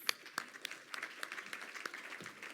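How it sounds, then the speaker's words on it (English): A business event audience gives a round of applause for sponsors, a light scattered patter of claps that stays fairly faint and distant throughout. "A round of applause, please."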